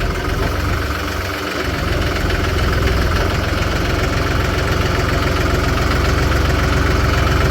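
A new tractor's engine runs steadily at a low, rumbling idle-like pace, loud and close throughout with a constant mechanical drone and no talking.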